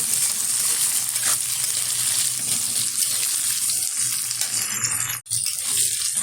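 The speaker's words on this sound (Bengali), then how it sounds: "ভালোভাবে ভেজে নেব।" Chopped vegetables fry in a pan for fried rice, a steady hiss and sizzle with occasional stirring noises, close and even, briefly cut by a short dropout near the end.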